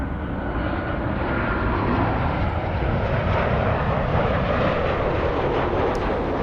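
A Boeing 787 Dreamliner airliner passing over Santa Monica on approach to Los Angeles airport, a loud continuous broadband jet roar that stays steady and strong throughout.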